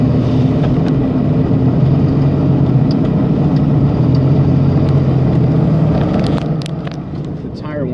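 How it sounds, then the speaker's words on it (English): A Chevy S10 driving offroad, heard from inside the cab as a steady, loud tire whine and road drone that holds throughout before easing slightly near the end. "you might be able to hear some of that tire whine on the vehicle"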